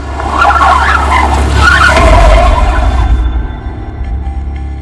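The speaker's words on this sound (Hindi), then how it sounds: "गाड़ी घुमा।" Car turning around with tyres skidding and squealing, a loud continuous screech over steady engine rumble lasting about three seconds before easing off, with no voices.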